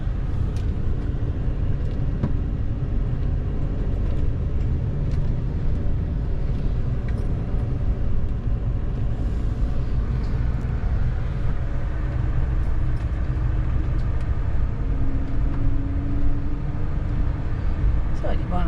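A car cruises slowly around the loop roads of Governor Thompson State Park in Wisconsin, its low steady engine and road rumble filling the cabin throughout, with people talking now and then over the drone.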